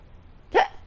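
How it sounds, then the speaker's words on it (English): A single short, sharp hiccup breaks a near-quiet background, close to the microphone and fairly loud, with nothing else around it. "Oh, hiccups."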